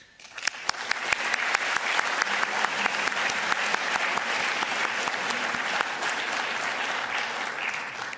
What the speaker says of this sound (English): we give a general applause to the 132 authors